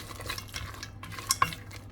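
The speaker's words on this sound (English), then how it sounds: "That's going to give it a stir." Coconut rice and mixed vegetables stirred in a pot: soft scraping and shuffling strokes close by, then two bright clinks of a utensil against the metal rim near the end, fairly quiet, with no talking.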